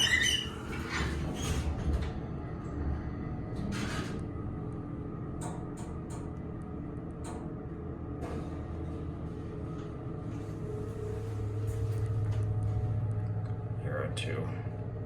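The motor of a vintage Haughton hydraulic elevator runs with a steady low hum and whine, joined by faint clicks and mechanical shifts, while a voice speaks quietly over it.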